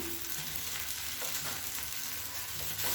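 A dosa crisping on a hot pan, a steady close hiss of frying oil with faint scraping, no voices.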